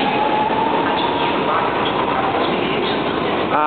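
A São Paulo metro train in a station gives a loud, steady rumble and rolling hum throughout, with faint squeals over it and people talking in the background.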